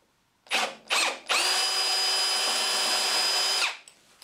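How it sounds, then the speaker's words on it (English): A power drill running in reverse bites into a stripped screw, two short whirring bursts followed by one long steady high whine that winds down, close and loud. "This will start to drill the screw, but once it bites, there is a very good chance that it will actually remove the screw."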